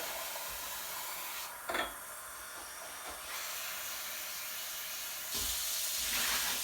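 Hot water pours with a soft, hissing rush that swells and eases in a few separate bursts, quiet and close, as jugs of it are added to sugar to make bee syrup.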